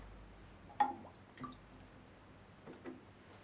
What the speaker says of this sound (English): I'll shake off excess water, because you don't want that all over the house